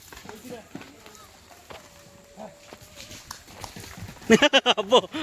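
Quick hoofbeats of a young calf running on firm ground at a farm in Safale, India, a rapid burst of clopping near the end following scattered talking and movement.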